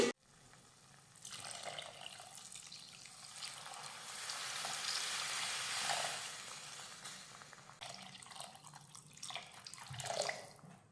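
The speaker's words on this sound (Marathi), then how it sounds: "मसाले व्यवस्थित मिक्स करून घेतले की आता यामध्ये घालूयात पाणी" Water poured into a pan of matar paneer curry masala, a continuous close splashing stream that swells and fades over about ten seconds, fairly quiet, with no voices.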